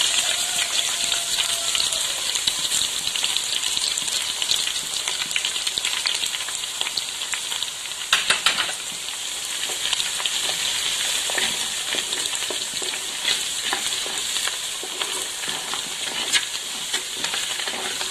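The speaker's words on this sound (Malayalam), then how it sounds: "ഇഞ്ചിയുടെയും വെളുത്തുള്ളിയുടെയും പച്ചമണം മാറുന്നവരെ നന്നായി ഇളക്കി കൊടുക്കുക" Chopped ginger and garlic frying in hot oil with green chillies for a Kerala fish head curry, a loud continuous sizzle broken by occasional stirring scrapes.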